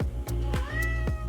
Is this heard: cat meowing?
yes